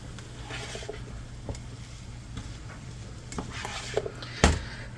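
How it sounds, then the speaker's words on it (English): Vegetables stirred in a skillet over medium heat for a one-pan turkey vegetable dish, a soft steady sizzle with scattered scraping and clinking of the utensil against the pan, close and fairly quiet. "I am just stopping in to give this a stir."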